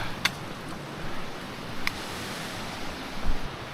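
A river rushing close by on an open plain during a solo hike around Andorra, a steady broadband wash of flowing water with a couple of brief sharp ticks over it and no one speaking.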